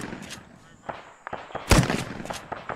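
Vietnam-era firefight in Arma, with a few sharp gunshots at varying distances, one louder close report standing out, and some thuds and faint talk around them.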